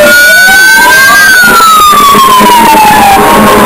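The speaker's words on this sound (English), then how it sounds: "Siren." A loud, close siren at a nuclear power plant wails in a long rising then slowly falling sweep, with no talk over it.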